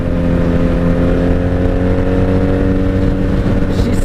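A 1997 Honda Magna VF750C cruising on the highway around 95 with bad fuel in the carbs, giving a steady, loud low engine drone mixed with heavy wind rush, unbroken and close from the rider's position.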